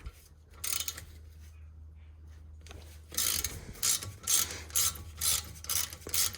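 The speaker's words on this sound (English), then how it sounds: "Normally we can use a small ratchet to do this." A small ratchet works a fastener on the front brake of a BMW E90, giving a close run of quick rasping clicks in short repeated strokes after a few quieter seconds, with no talking.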